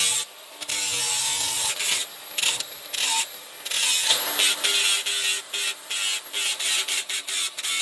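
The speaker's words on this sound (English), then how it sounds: "Once it's sanded, I just fine tune it with the file, getting rid of all the high spots or sharpening the corners" A hand file works a metal part for a Harley-Davidson Sportster gas tank on a dirt-bike build, giving close, gritty rasping strokes in an uneven rhythm, some long and some short and choppy.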